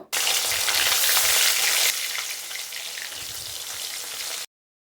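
Koi fish fry in hot mustard oil in a kadai with a loud, dense, close sizzle that eases slightly partway through and then cuts off abruptly into silence.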